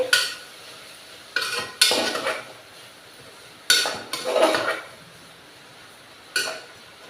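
A spoon stirs cluster bean and tomato curry in a pan, with four or five bursts of scraping and clinking against the metal, separated by quiet pauses and a faint sizzle underneath.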